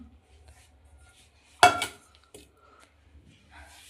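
An aluminium cooking pot for dal is picked up and set down with one sharp, close metallic clank and a short rattle, followed by a faint tap against an otherwise quiet room.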